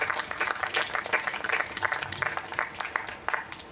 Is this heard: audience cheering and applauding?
yes